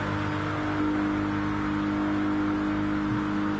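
Race car engines in Gran Turismo Sport, with a Ferrari F40 running behind a Toyota Supra, a steady droning engine whine and hum holding at constant loudness without any pause or talk.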